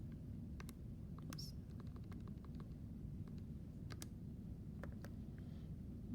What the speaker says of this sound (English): Okay, typing it in.